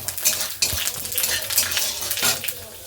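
Whole spices for a phoron temper hit hot oil in a pan and crackle and sizzle steadily and loudly up close, while a spoon scrapes and stirs now and then.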